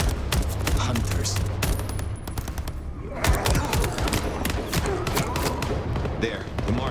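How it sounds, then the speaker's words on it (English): Gunfire from the video game Vampire the Masquerade: Bloodlines 2, a dense barrage of rapid shots and thumps running throughout, mixed with game effects and talk. "These are gunshots."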